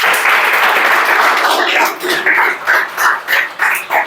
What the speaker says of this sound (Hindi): आज के क्लास के लिए जोरदार ताली बजाओ।